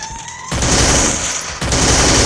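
Rapid automatic gunfire from the Free Fire battle-royale mobile game, two loud dense bursts with a brief gap between them, close and harsh, with no talking.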